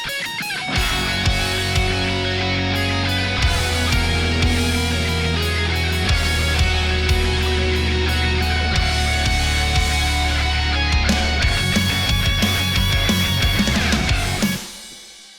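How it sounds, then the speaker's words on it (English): A dense, loud heavy metal mix with thick, sustained low bass guitar tones driving throughout, cutting off abruptly near the end. "Listen to this bass."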